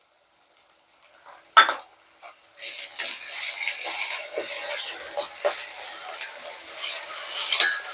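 Ginger garlic paste drops into a pan of frying onions: a few light clinks, then a sharp onset of steady, hissing sizzle that keeps going, close and fairly loud.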